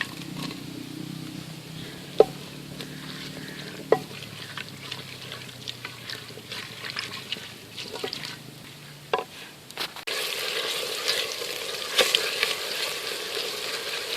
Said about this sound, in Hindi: ऑयल गर्म हो गया, ऑयल में प्याज शामिल कर लेंगे।